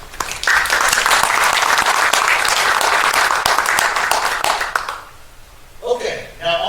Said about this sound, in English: let's give all the supporters a big round of applause